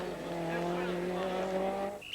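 Toivonen's two-wheel-drive rally car at the 1985 Monte Carlo Rally holds a sustained, high-revving engine drone with a steady pitch, ending with a brief sharp squeal.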